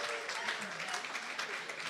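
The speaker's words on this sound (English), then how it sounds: "a huge round of applause for all of our players" Audience applause at a charity bid-card auction for Big Brothers Big Sisters of Northern Sierra, a steady dense patter of clapping that fills the whole stretch with voices mixed in.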